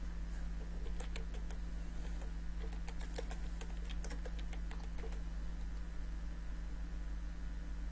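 Close keyboard typing on a computer as a product name is entered, a quick irregular run of light clicks over a steady low electrical hum, with no voices.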